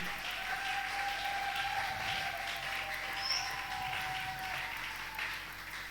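A church congregation applauds and cheers in a hall, a moderate wash of clapping and voices that holds steady for several seconds, with a sustained tone running underneath.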